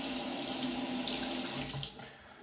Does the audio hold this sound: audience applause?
no